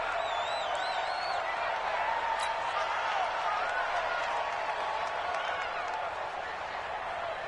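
An American football crowd roars steadily throughout, a dense sustained cheer building ahead of a big third down. Scattered whistles and shouts cut through, while a broadcast voice sits low beneath the noise.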